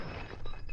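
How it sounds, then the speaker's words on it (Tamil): Drinking glass breaking indoors: a short, bright shattering crash, with brittle fragments clattering through the brief moment. "ஐயோ, கிளாஸ் உடைஞ்சிடுச்சு."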